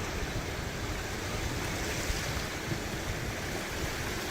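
The fast-flowing Kosi river rushes at the barrage as a dense, unbroken roar of water, loud and steady throughout.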